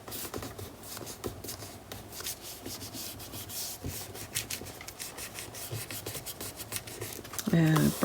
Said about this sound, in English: And burnishing everything into place.